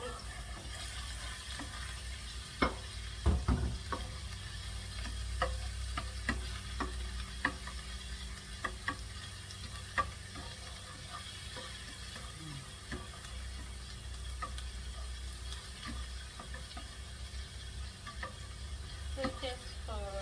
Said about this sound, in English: It's ready, sizzling,